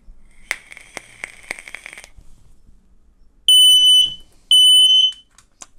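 X-Sense XS01-WT WiFi smoke detector sounding its alarm in two loud, piercing, high-pitched beeps, each lasting about half a second, close up, after some faint rhythmic clicking.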